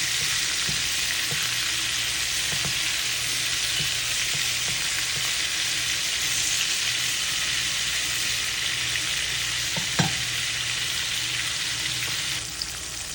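Shrimp fry in a pan with a constant, bright sizzle, punctuated by a few soft clinks and stirring scrapes, with no talking.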